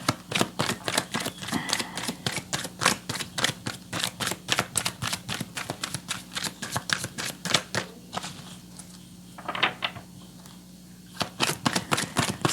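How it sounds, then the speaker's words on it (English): Tarot cards being shuffled by hand: a steady run of crisp, rapid riffling flutters, close and fairly loud, with a short softer pause near the end before the riffles resume. "So what I'm shuffling for right now is the universal energies"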